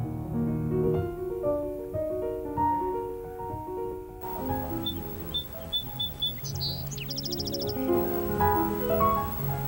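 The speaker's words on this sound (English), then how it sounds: "The singing birds break the quiet atmosphere of the dense forests." Birds sing in a dense redwood forest: scattered high chirps and short trilled phrases, faint and fairly distant, over a soft steady tonal background.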